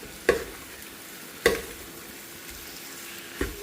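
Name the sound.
mixing chicken into masala in a pan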